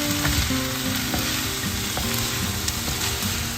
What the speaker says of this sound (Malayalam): അപ്പം നമ്മുടെ പനീർ അങ്ങനെ കിടന്ന് വേവുകയാണ്.